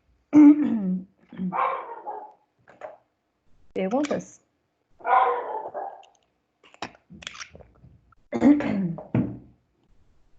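Several barks and yelps from dogs, spaced irregularly, mixed with a brief spoken question nearby.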